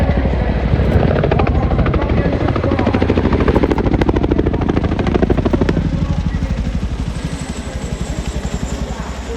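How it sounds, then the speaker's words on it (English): An RAF Chinook CH47 twin-rotor helicopter flies along a runway, its heavy rapid rotor thudding loud and close throughout, easing slightly toward the end. "As the Chinook begins its second half of the runway"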